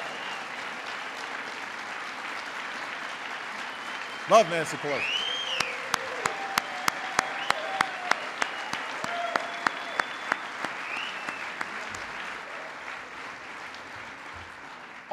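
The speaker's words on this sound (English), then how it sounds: "Give her a big round of applause." An audience at the House Democratic Issues Conference breaks into loud, sustained applause with scattered sharp claps after a man finishes a short spoken line, and the clapping continues steadily to the end.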